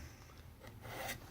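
A knife blade drawn through a Camillus carbide sharpener gives a soft, steady scraping rasp that runs continuously and grows slightly louder toward the end, close up and quiet.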